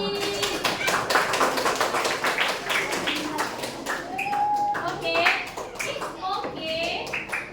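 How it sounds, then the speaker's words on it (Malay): A class of children claps for themselves in a classroom, sharp distinct hand claps in an irregular flurry, with children's voices and a teacher talking over and between the claps. "tepuk tangan untuk diri sendiri"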